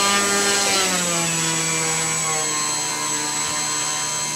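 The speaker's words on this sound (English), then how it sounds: "Full power takeoff." Electric motor and propeller of an SC15 Sport Cub RC plane screaming at full power on takeoff, a loud steady whine that slowly drops in pitch as the plane pulls away.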